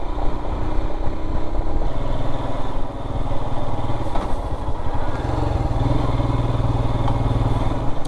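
A motorcycle engine drones steadily while climbing the winding Alpe d'Huez mountain road, a continuous loud ride sound with wind rush and no speech.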